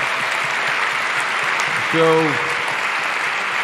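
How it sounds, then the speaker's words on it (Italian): Applause from a live audience at a Save Soil concert event in Rome, a steady diffuse clapping wash throughout with a short spoken word rising briefly over it. "I think deserves an applause."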